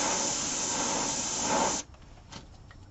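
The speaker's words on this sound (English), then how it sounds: "I just try to be a bit more accurate with spraying it only where the stencil actually is." Paint sprayed through a stencil: a loud, close, steady aerosol hiss that runs for nearly two seconds, then cuts off abruptly, leaving faint background noise.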